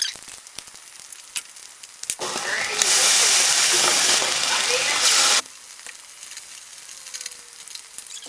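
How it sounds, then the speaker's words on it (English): Food coated in Texas-style barbecue sauce and seasoning sizzles loudly in a hot pan, a bright hiss that swells for a few seconds and then drops back to quieter frying crackle. "And then I'm gonna cook this side, and then I'll flip it to the other side and add more sauce"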